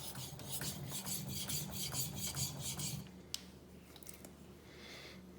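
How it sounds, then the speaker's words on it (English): A Shirogami steel knife drawn in edge trailing strokes across a Japanese natural whetstone, rhythmic gritty rasping passes for about three seconds, then quieter scattered scrapes and a single sharp tick. "Right now we're doing edge trailing where the knife is going that way and then riding itself back."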